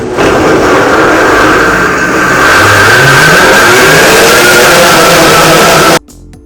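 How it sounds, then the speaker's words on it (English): A blender running on its highest setting, a loud, steady, whining motor drone that rises in pitch partway through, then cuts off abruptly near the end, with no talk. "So I'm going to turn my blender to 1."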